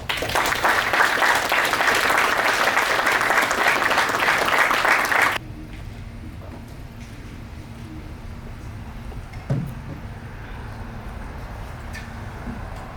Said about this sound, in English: If you can join me in giving her a round of applause